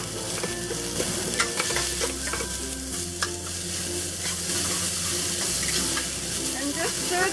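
Garlic, ginger, onion and pepper sizzle in hot oil in a pan over medium-high heat while a utensil stirs and scrapes through them, a loud steady frying hiss with clinks on top.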